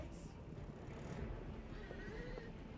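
Horses whinny and hooves clip-clop as mounted riders charge in a Total War Saga: Thrones of Britannia battle, a loud neigh rising over steady galloping and battlefield din.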